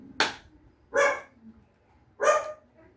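A dog barks three times, spaced about a second apart, fairly close and clear against a quiet background.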